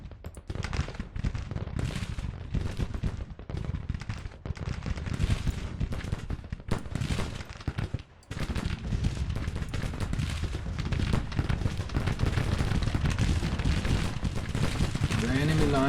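Civil War musket volleys and artillery crackle in a Grand Tactician battle, dense overlapping gunfire rolling continuously at close range with heavy booms, and a voice talks intermittently over it.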